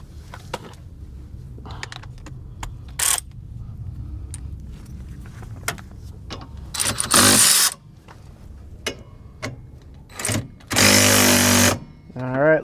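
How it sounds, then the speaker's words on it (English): Wrench work on the rear brake caliper bolts of a Toyota RAV4, with scattered metallic clicks and taps followed by two loud bursts of rapid ratcheting or spinning, close up with a voice speaking at times. "we're gonna go ahead and remove the caliper bolts"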